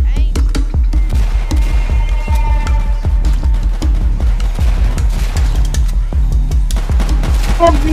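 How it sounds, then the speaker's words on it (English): A double barrel shotgun fires repeatedly in the zombie video game Bloodfest, loud booming shots in a rapid, regular rhythm that continue throughout amid the noise of combat. "Yeah, a double barrel shotgun."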